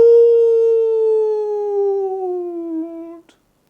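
A voice imitates a bear's howl with one long, sustained tone that slowly drops in pitch before cutting off abruptly.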